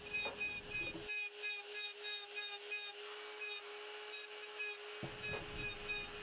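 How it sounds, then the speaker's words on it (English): A die grinder carves texture into wood, giving a steady high whine with rasping grit across the whole stretch, strongest with low rumble at start and end. "You do need lots of rest when using the die grinder because it's kind of heavy."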